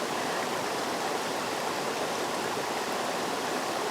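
A waterfall pours in a steady, broadband rush of falling water, loud and unbroken throughout with no voices over it.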